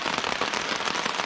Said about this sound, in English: It's really raining, man.